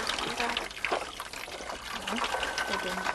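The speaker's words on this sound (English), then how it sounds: "The matapi is used to strain the liquid out of the ground-up cassava." Liquid strained from ground cassava paste through a matapi, a woven rainforest press, trickling and splashing steadily with a wet pouring texture, under a speaking voice.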